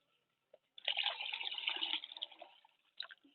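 Water poured from a mug onto 1.5 kilos of salt for roasting puffed rice in the Sundarbans: a close, steady splashing gush lasting about a second, tapering into trickles, with a brief splash near the end and no talking.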